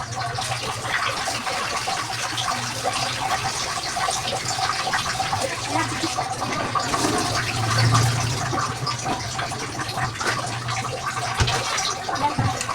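Bitter gourd (ampalaya) rinsed under a steady stream of running tap water, a continuous close splashing rush that holds evenly throughout with no talk.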